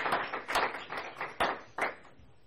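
Applause at a county school board of education meeting, a modest room's worth of clapping in soft uneven bursts with a few sharper individual claps, fading toward the end.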